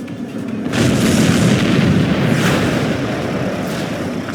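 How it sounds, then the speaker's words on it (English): Missile launch and blast from the Ace Combat 7 special mission Anchorhead Raid: a sudden loud, roaring boom swells up and rumbles on, sustained and dense, with no talk over it. "Strider 1, missile launched."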